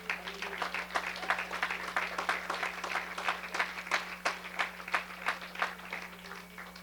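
A church congregation claps in praise to the Lord, a faint, steady rhythmic applause with evenly paced beats over a low background hum.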